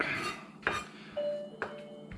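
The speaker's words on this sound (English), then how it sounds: "the reason I'm chopping it up in small pieces like this" A knife chops rhubarb into small pieces on a cutting board in a home kitchen, sharp knocks landing at an uneven pace, close and clear with no talking.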